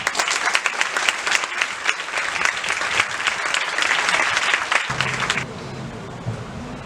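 Theatre audience applauding before a play begins: dense, lively clapping from a crowd for about five seconds, then dropping abruptly to a quieter, thinner patter with faint room murmur.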